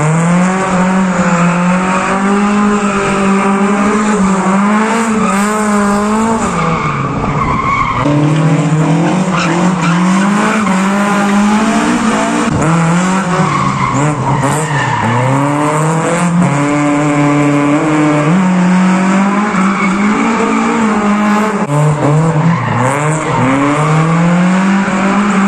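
Toyota AE86 on a test drive, engine revs rising and falling through repeated gear changes with loud tire squeal and skidding, close and continuous throughout.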